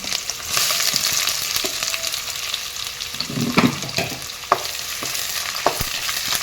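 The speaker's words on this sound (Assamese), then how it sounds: "তাৰপিছত দি দিছোঁ কাটি থোৱা পেষ্টখিনি।" Ground paste fries in oil with bay leaf, cloves, cardamom and cinnamon for a chicken and carrot curry, making a steady close sizzle with occasional stirring scrapes and clanks, and no voices.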